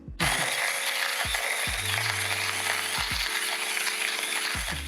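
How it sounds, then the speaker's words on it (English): A HARIO hand coffee grinder driven by the electric Electro attachment whirs with a steady mechanical grinding texture, its motor pitch repeatedly sweeping down and resetting in a regular cycle, loud and close. "It's an electric way of grinding your coffee with a hand grinder"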